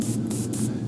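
An airbrush hisses in bursts while spraying paint onto a largemouth bass taxidermy mount, its airy spray rising and falling in short pulses over a steady low compressor hum.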